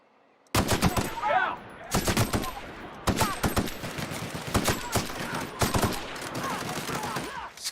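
Rapid bursts of automatic gunfire from a gun in The Outer Worlds, loud and close, cracking in quick runs with short pauses between volleys and no talking.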